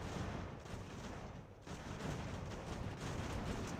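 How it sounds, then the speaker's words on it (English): Canister artillery fire in the strategy game Ultimate General: American Revolution, heard as a dense, continuous crackle of distant gunfire and booming volleys that dips briefly before resuming, with no talk. "this is canister fire basically"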